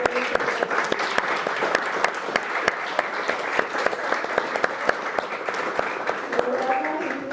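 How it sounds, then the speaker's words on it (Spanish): An audience at an archival studies lecture in Chiapas claps in a steady, dense round of applause, with a voice speaking faintly over it near the end. "les pido un fuerte aplauso"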